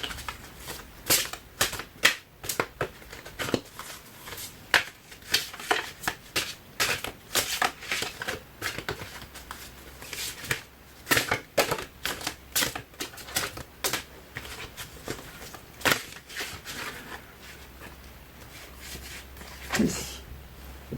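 A large deck of tarot cards is shuffled by hand in a steady stream of crisp, dense card slaps and riffles that runs for about twenty seconds, close and fairly loud, with no talking.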